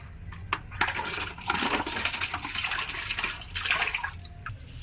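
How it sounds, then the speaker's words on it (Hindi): Water runs from a tap while hands are washed in a home, giving a continuous splashing rush with brief clinks and knocks, close and fairly loud. "मैं हाथ धो के आती हूँ"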